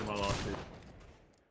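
Musket fire in the Napoleonic-era battle game Holdfast: Nations at War, a single sharp volley crack that quickly decays into a fading rumble, moderately loud and heard alone.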